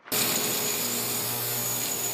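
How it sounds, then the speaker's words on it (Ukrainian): An angle grinder starts abruptly and grinds loudly through metal, a harsh, constant roar close by. "нарізати болгаркою метал"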